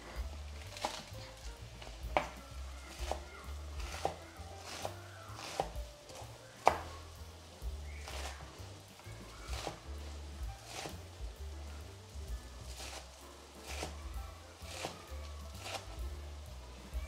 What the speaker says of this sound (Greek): Και ψιλοκόβουμε.